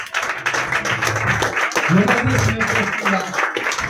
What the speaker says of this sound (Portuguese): E as palmas que louvam o Rei Jesus